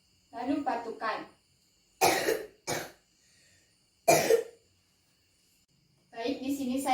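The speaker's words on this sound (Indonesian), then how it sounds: "lalu batukan." Several short, sharp coughs from a patient practising an effective coughing technique for asthma, two bursts close together then another after a pause, heard close in a quiet room with speech before and after.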